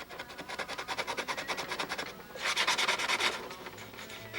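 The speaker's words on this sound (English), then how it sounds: "Old Bud McKnight sanding sticks never cease to impress me." A sanding stick rubbed back and forth over wooden cap strip joints, a dry rhythmic rasping of quick close strokes that grows louder and brighter midway, with no talking.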